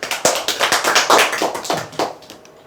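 A seminar audience claps at a sales talk on telemarketing, a dense run of sharp hand claps close by that swells and then thins out, with no voices over it.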